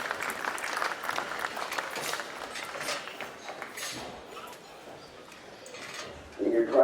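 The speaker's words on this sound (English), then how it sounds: "And if you'd like to give them a round of applause," Audience applause at a junior breeding gilts livestock show: steady, moderately loud clapping through most of the clip that eases off midway, then a voice speaks near the end.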